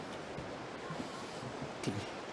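Flowing water of the Aare river in the Aareschlucht gorge, a soft, steady rushing hiss heard from a walkway, faint and even with a few small splashy bursts.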